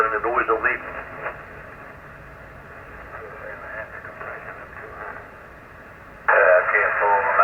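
A weak amateur radio station on the 40-meter band sits buried in static, its voice barely readable through steady band-limited hiss, ending in a burst of louder noise.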